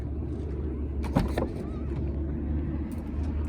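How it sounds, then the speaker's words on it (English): A car passes on a nearby road behind someone reviewing a 2003 Mercedes SL500, a low, moderate rumble that swells and fades across the stretch with a brief sharper rattle near the middle. "Sorry for that car going by in the background."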